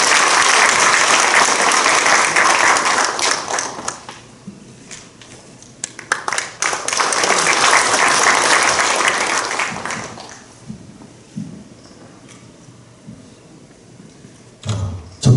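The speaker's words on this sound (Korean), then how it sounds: "우리 큰 박수로 모시겠습니다." A large assembly hall crowd claps for a vice-moderator candidate at a church general assembly election forum: two loud bursts of dense applause, the first fading by about four seconds, the second swelling then trailing into quieter room noise.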